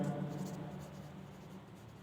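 A fraction formula is written out during a Class 6 maths lesson, a brief, faint scratch of writing over a low background hum.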